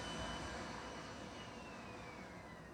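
Simulated L39 jet turbine engine at full throttle in the RealFlight simulator, a steady broadband roar with a thin high whine that slowly drops in pitch, continuous and fairly faint.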